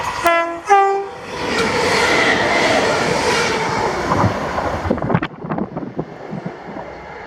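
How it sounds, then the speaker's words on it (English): A ScotRail Class 318 passenger train sounds two short horn blasts, then roars past close by at a level crossing with rumbling wheels, ending in sharp clacks over rail joints. "our next train was 2F29, the 1224 ScotRail service to Dalmuir from Cumbernauld"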